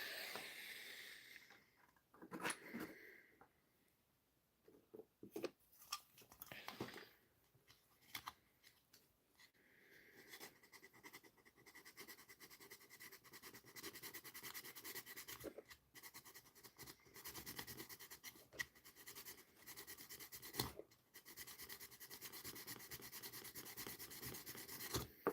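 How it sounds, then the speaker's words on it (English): Sandpaper rubbing over a handmade Arceus model in uneven scratchy bursts, close and fairly quiet at first, then settling into a steadier continuous abrasive rasp with brief pauses. "I'll just take some sandpaper to it real quick"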